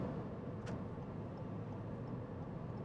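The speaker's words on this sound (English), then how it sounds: "the ride at 68 miles per hour is pretty quiet, getting a little bit of road noise off the tires, not much at all" Inside a 2019 Toyota Corolla Hatchback cruising at about 68 mph on the highway, a low, steady, quiet hum of tire road noise and wind rush around the cowl drones on evenly, with one brief faint tick.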